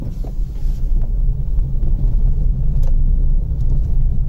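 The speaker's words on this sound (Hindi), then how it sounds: "ये इस वक्त मैं सिलेरियो पे जा रहा हूं।" A Maruti Celerio car rolling along a rough off-road track to Rajaji National Park, heard from inside as a continuous low rumble of engine and road noise with occasional knocks and rattles, no talking.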